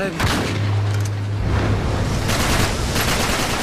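Sustained bursts of automatic gunfire from the video game Uncharted 3: Drake's Deception, loud and dense, with a low rumbling drone beneath the shots throughout.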